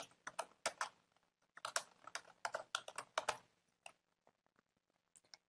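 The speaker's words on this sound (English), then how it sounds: "we can type in some text in them" A computer keyboard clatters in quick bursts of close, crisp keystrokes, pausing between words, then slowing to a few isolated taps near the end.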